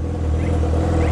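A motorcycle engine runs loud and steady in a low continuous rumble, revving slightly with no break, alone without talk.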